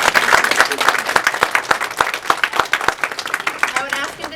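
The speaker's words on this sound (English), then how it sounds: "I think we should give him a hand clap." An audience at a human rights talk claps steadily, the individual hand claps close and distinct in a lively patter that fades a little toward the end, with a voice faintly underneath.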